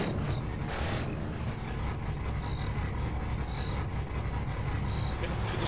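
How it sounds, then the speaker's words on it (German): A loud, steady car engine drone from a driving game, The Crew, holding at a constant level throughout with faint chirps on top, while someone talks over it. "Das geile scheiß Auto ist einfach immer noch zu laut"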